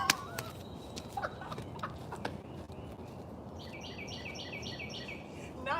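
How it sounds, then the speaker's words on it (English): Outdoors in nature, a bird's rapid repeated call rings out like a burst of chuckling laughter, a rhythmic series of notes over steady background ambience, with a few other faint chirps. "Did y'all hear the bird laugh?"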